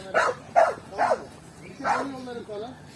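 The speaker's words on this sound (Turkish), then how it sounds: "Bu köpekler." Several sharp dog barks ring out in a loose series, four or five close together and fairly loud, with no one speaking.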